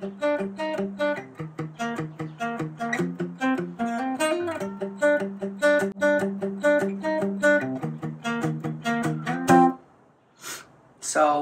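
Electric guitar in drop C tuning playing the intro riff at full speed, a fast run of picked notes and arpeggios for about ten seconds, ending with a brief pause and a few faint noises.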